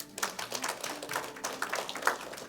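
A church congregation claps for God during a sermon, a dense spread of hand claps that rises and falls steadily throughout, moderately loud and fairly close.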